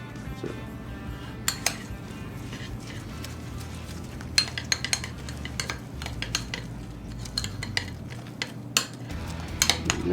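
A spoon mixes crab cake ingredients in a bowl, with celery, Old Bay and crackers, giving steady close scraping and stirring with frequent light clinks against the bowl.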